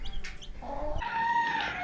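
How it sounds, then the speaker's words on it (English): A broody mother hen clucks close by, fairly quiet, with a few short vocal bursts and a longer drawn-out cluck, and no talking. "That mama hen's pretty darn mean."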